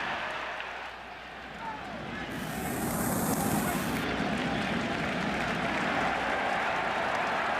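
A large baseball crowd at Fenway Park during the 2003 ALCS Game 4 between the Yankees and the Red Sox, a steady, dense roar that swells after the first seconds and stays loud throughout.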